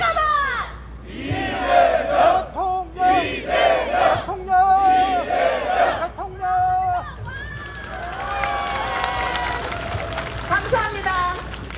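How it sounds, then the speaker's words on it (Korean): Rally crowd at an outdoor campaign event in Jeju shouts loudly three times in unison, each chant a long swelling cry, followed by a lingering cheer and crowd noise. "자, 손을 엄지손가락을 양쪽을 펼치고, 자, 양쪽을 펼치고 큰 소리로 세 번 외쳐주시면 됩니다."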